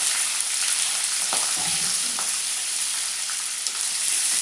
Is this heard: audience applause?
no